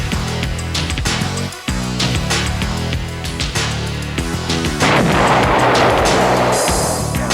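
Bombs exploding during a 1991 Desert Storm air strike: dense, loud, rumbling booms and thuds roll one after another in a heavy continuous barrage, ending in a broad noisy blast wash.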